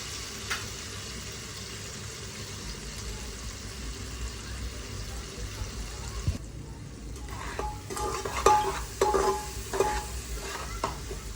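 Tomatoes sauté in a pan for mutton masala with a soft steady sizzle, followed later by clinks and scraping stirs of a spatula against the pan, all fairly quiet.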